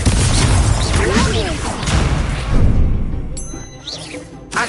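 A fire-blast explosion spell effect from a wizard video game, deep booming bursts with crackling rumble and a fading tail, mixed with a voice talking over it.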